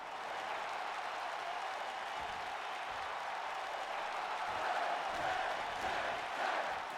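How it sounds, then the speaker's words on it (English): Virtual arena crowd in the wrestling game WWE 2K19 during a match between Shawn Spears and MJF, a steady wash of cheering and applause running loud and continuous throughout with no pauses. "Shawn Spears now getting the crowd going."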